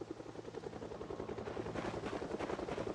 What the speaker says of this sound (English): Because I have a helicopter I gotta worry about.